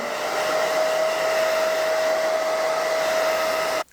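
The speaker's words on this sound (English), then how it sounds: "let's go ahead and fast forward the process with the blow dryer" A hair dryer blows a steady, loud whoosh with a constant motor whine while drying a colored wig, running alone without talk and cutting off abruptly at the end.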